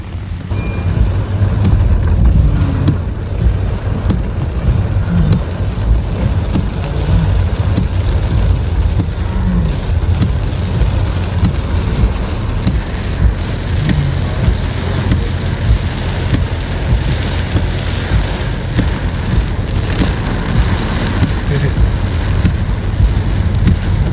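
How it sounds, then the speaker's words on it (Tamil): Heavy, steady rain pours over flooded streets in Jaffna, with broadband wash and low rumbling water flow that hold at a constant level throughout, no voices over it. "மழை குறையிற மாதிரியே தெரியல, தொடர்ந்து மழை பெய்யுது"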